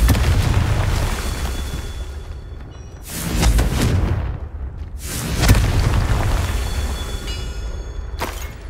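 Spell explosions from the Confringo fire curse in Hogwarts Legacy, several heavy booming blasts over a continuous rumbling game soundscape, followed by a short sharp burst near the end.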